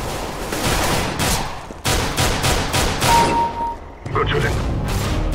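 Gunfire in Counter-Strike: Global Offensive, with loud rapid cracks and bursts in several clusters, a brief tonal beep partway through, and a voice speaking beneath the shooting.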